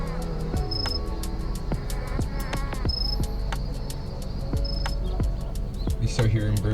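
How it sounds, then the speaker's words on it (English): Daytime ambience in the Roblox game Maple County, with scattered bird chirps and calls over a steady bed of background noise and other game sounds. "you start hearing birds chirping and the crickets go away."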